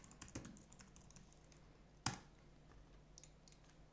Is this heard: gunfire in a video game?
no